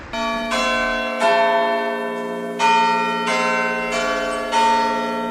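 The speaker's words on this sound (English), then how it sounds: "we discuss the church bells in Ashwell in Hertfordshire" Church bells in Ashwell, Hertfordshire peal loudly and clearly in a slow sequence, each strike ringing out with a long shimmering decay before the next, with no voices.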